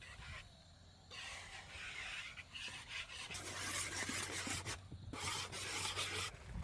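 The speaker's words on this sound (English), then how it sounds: "Now I am mixing all these things" Milk powder and dough ingredients mixed by hand in a bowl, close rasping and rubbing strokes in uneven bursts with brief pauses between, no voices.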